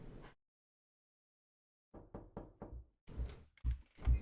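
Knocking on a door in a video game: after a silence comes a quick run of four sharp raps, then a few heavier thuds, close and clear, with no talking.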